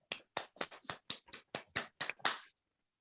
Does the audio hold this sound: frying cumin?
no